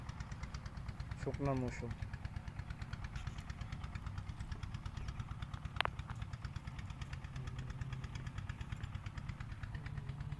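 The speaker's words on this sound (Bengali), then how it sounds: "নদীতে নৌকা যাচ্ছে, ট্রলার বালু নিয়ে যাতায়াত করে এসব ট্রলার" A sand-carrying trawler boat's engine chugs on the Brahmaputra river in the dry season, a steady low rhythmic throb heard at moderate distance, with a brief spoken phrase near the start and a sharp click midway.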